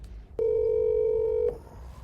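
A single steady telephone tone sounds for about a second during a phone call, loud and clean, followed by a faint higher tone as it cuts off.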